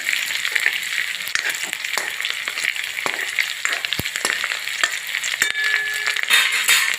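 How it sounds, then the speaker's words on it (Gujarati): Green chillies and garlic sizzle in hot oil as a tempering for a cowpea vegetable curry. The frying is loud, close and continuous, with scattered sharp crackles and a few stirring clinks. "મરચાં લસણ બધું સરસ મજાનું એકદમ વઘાર લાલ થઈ જવા દેવાનું છે"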